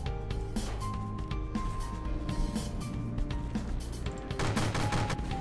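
Weapons fire continuously in the naval combat game From The Depths. A dense, loud barrage of repeated shots and booms plays over a steady rumbling background.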